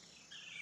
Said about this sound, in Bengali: আর শুধু পাখির ডাক আর ঝিঝি পোকার ডাক